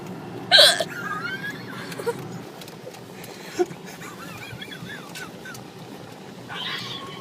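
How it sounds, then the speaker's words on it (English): A person hiccups indoors, a sharp close hiccup early on and a softer one midway, with faint laughter and quiet murmuring in the background. "Hiccups."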